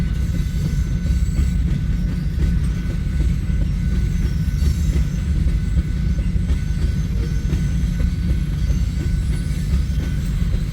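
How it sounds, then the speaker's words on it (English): Freight unit train of non-hazmat tank cars rolling through Hobson Yard in Lincoln, Nebraska, at night: a steady, loud low rumble of wheels and cars passing close by, continuous throughout with faint rail noise. "This might be the first time I've ever seen a full unit train of non-hazmat tanks."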